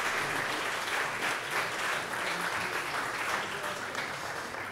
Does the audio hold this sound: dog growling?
no